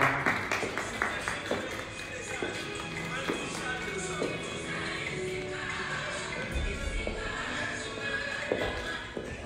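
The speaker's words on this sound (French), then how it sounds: "Encore une fois, nos applaudissements, nos applaudissements." Guests at a church wedding blessing clap in scattered, uneven rhythm, with a speaker's voice carrying over the applause throughout.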